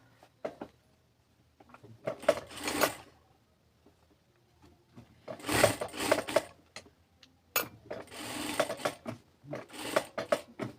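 A sewing machine stitches around the curved neckline of a kameez, running in several short bursts of rapid mechanical chatter separated by pauses, close and clear with no talk.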